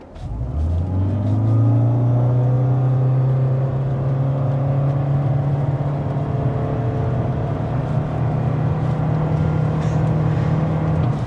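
A 2024 Toyota hybrid car accelerates from a standstill to 60 mph. Its engine and motor drone rises quickly, then holds a loud, steady whirring hum heard from inside the cabin.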